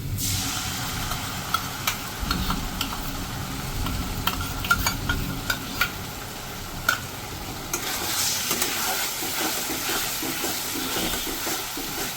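Soya manchurian with tomato sauce is stirred and fried in a pan, a steady sizzle under repeated scraping and clinking of the spoon against the pan, close and continuous throughout.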